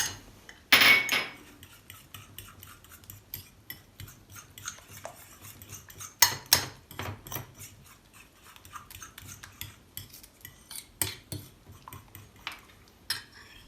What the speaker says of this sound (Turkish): Tuz ve pul biberi ilave edip karıştırmaya devam ediyoruz.